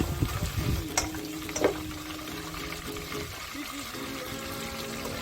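Chicken sizzles and fries in a hot kadai with stirring, a soft crackling hiss that settles into a steady quiet sizzle, with a few louder scrapes early on.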